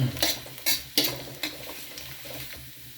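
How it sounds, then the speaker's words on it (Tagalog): Ginger, garlic and onion sautéing in hot oil for chicken menudo, a steady sizzle broken by several close scrapes of a stirring utensil against the pan. "Tapos gisa ta lang aton nga luya."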